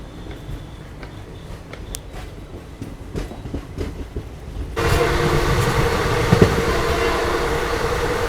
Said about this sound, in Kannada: ನಾವು ಹೊರಡ್ತಿದ್ದೀವಿ ಕದೂರು ಜಂಕ್ಷನಿಂದ